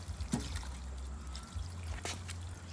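Water trickles and splashes while the Pet Rehydration Station is rinsed out, a quiet close dribble with a couple of brief sharper splashes and a low steady flow, no voices.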